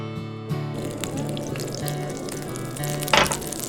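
Butter melting in a hot pan over medium heat before lamb chops are fried, giving a steady close sizzle and crackle after a brief quiet start, with a faint hum beneath.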